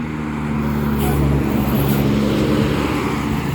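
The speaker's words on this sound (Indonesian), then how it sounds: "ini ada bus pariwisata ya yang mengantarkan penumpang menuju Padang Panjang" A tour bus carrying passengers toward Padang Panjang rolls past on the road, a loud engine drone and tire rumble that swells and holds, with hints of other traffic mixed in.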